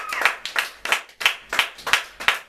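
A church congregation claps in unison, seven sharp rhythmic claps spaced about a third of a second apart, crisp and fairly close with a slight room echo.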